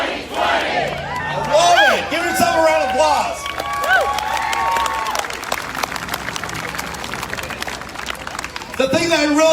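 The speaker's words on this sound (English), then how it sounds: "Give yourself a round of applause." A crowd at a political campaign event in University Place claps and cheers in a rolling burst of applause, while a voice speaks loudly over the noise.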